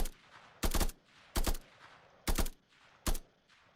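Gunfire from a new weapon in a crafting video game, loud short bursts repeating four times at uneven intervals over a quiet ambient background, no talk.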